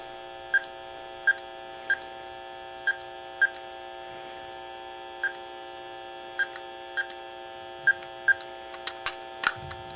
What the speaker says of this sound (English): I'm going to be using this tone dialer. I'm going to enter a phone number